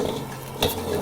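Gourami fish with salted egg is stirred in a pan, with a steady low sizzle and a brief louder scrape of the utensil partway through.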